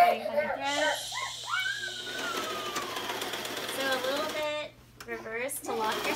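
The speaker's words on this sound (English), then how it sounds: "That's the bobbin winder." A sewing machine's bobbin winder whirs steadily in the background while several people talk and laugh over it nearby, the motor hum running through most of the stretch.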